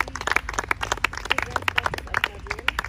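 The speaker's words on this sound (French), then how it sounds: "Acclamons pour la présence de Dieu" A church congregation claps in quick, uneven beats, many hands striking together at close range with a few voices mixed in beneath the applause.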